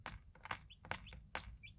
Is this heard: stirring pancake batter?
no